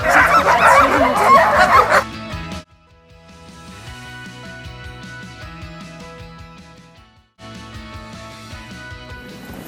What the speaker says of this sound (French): Donc là on est en train de faire du chien de traîneau et c'est trop beau.